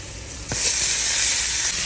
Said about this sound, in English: Let's go ahead and melt some butter first.